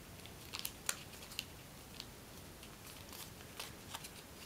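Soft crisp rustles and small creasing snaps of origami paper being folded into a hummingbird, a handful of quick faint crinkles scattered over a few seconds close up against a quiet hiss, with no talk.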